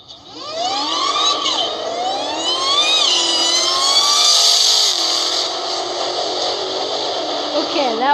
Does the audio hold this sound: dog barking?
no